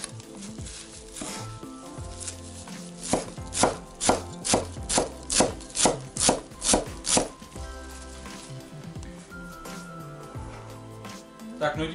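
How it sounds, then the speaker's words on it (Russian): A knife chops parsley and dill rapidly on a cutting board, a run of about a dozen brisk, evenly spaced strokes amid lighter kitchen clatter and music. "Нарезаем мелко."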